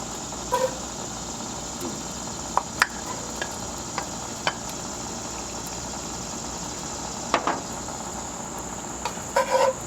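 Chopped onion sautéing in about a tablespoon of olive oil in a pan, a steady soft sizzle running throughout with a few brief clicks and taps of cookware.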